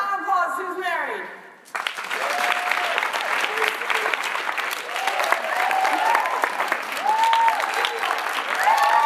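A conference audience breaks into loud, sustained applause that fills the room, with someone speaking just before it begins.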